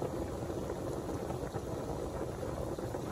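A pot of pasta water boils hard with a wooden spoon laid across the rim, a dense continuous bubbling and rumbling heard close up and alone, steady throughout.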